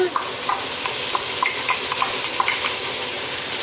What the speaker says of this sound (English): my mushrooms have been sauteing on medium-high for about 3 minutes. Now we're going to add in our ham.